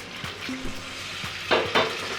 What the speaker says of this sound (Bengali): এটা হাই ফ্লেমে জিনিসটাকে কষাতে হবে।